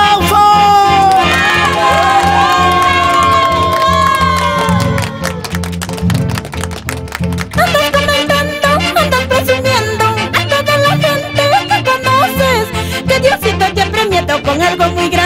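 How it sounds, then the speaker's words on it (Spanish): Loud crowd cheering, whoops and applause welcome a singer onstage at a Cuban music show, mixed with loud band music and sustained tones throughout, with the crowd noise rising and falling. "los verdaderos santiagueros, le damos la bienvenida con esos aplausos"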